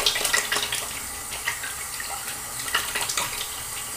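Running tap water splashing as hands are rinsed after shaving with soap and aftershave balm, a steady close stream broken by soft irregular splashes.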